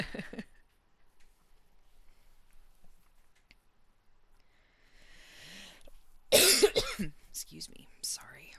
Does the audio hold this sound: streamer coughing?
yes